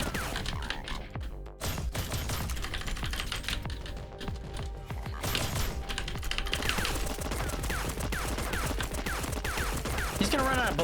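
Dense, rapid gunfire from robot enemies in the Dust & Neon video game crackles steadily throughout, with a short dip early on, layered over game music and sound effects.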